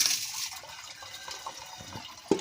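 Water splashes and pours while rice is washed by hand, a steady soft liquid trickle with small sloshes and a sharper splash at the end, close by and with no talking.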